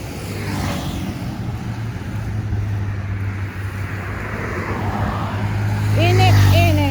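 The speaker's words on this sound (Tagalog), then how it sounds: "Ang bibilis ng mga sasakyan." Fast cars rush past on a road at night, their whooshing passes sweeping by close to the listener over a low engine hum that swells louder toward the end.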